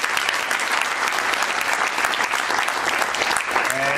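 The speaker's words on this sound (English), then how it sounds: "our chief guests truly deserve a big round of applause" Applause for the chief guests at a Teachers Day celebration at Guru Gobind Singh Indraprastha University, a steady, even wash of many hands clapping in a hall, with a voice starting near the end.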